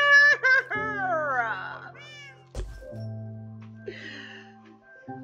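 Cat meowing in the Minecraft video game, a few distinct meows with rising and falling pitch, close and clear, alongside game sounds and a speaking voice.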